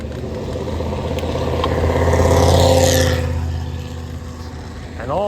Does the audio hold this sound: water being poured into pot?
no